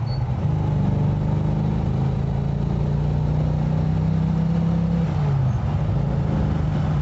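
American V8 muscle car engine purring steadily at a low idle, a deep continuous rumble with a slight pitch rise and fall, close and loud with no talk.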